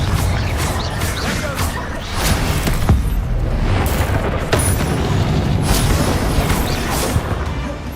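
Confringo blasting curse explosions in Hogwarts Legacy, a loud rolling barrage of booms and crashing debris over eight seconds, with short sharp spell impacts amid the rumble, near and dense.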